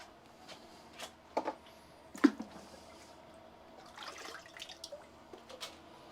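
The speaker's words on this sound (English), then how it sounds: "I forgot to water the banana." Water splashing and trickling onto a potted banana plant during garden watering, a few sharp splashes and drips scattered among quieter trickling, close by and with no one speaking.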